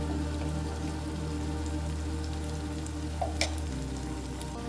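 Turmeric and masala spices fry in a pan for an Agri Koli-style dried-fish dish, giving a steady, soft sizzle with faint crackles and one brief clink, no voices.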